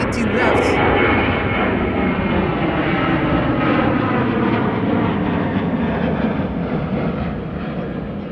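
A Turkish Airlines jet departs Amsterdam Schiphol for Istanbul on a sunny day, its engines producing a loud, continuous roar that holds steady throughout and eases slightly near the end.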